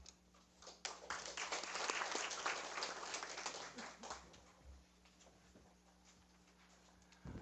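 Audience applause after a presentation at a municipal open meeting, a swell of clapping that peaks and then tapers off into scattered claps, heard faintly in a large room.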